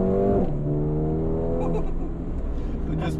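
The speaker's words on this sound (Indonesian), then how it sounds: "Tinggal digas. Ada suaranya. Suara knalpotnya enak." A new Mercedes in Sport Plus mode with a seven-speed dual-clutch gearbox, heard from inside as the exhaust note swells under acceleration and climbs in pitch, then changes gear and builds again. The engine sound is loud and continuous.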